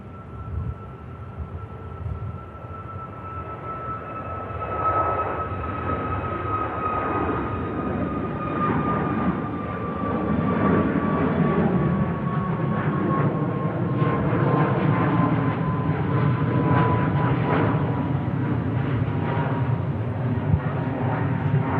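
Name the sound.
Ryanair aircraft taking off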